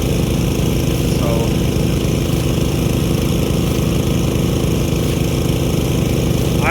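Engine-driven PTO irrigation pumps feeding a Buckner 3-inch giant irrigator run at a steady, loud, continuous drone with a constant low throb and no pauses.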